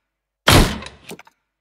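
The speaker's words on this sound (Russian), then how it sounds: "Выстрел хотел сделать дробовик такой, попробовать сделать его мощный и мультяшный." A cartoonish, powerful shotgun blast hits with a heavy booming punch after a silent start, then a rattling decay and a couple of small clicking ticks as it dies away.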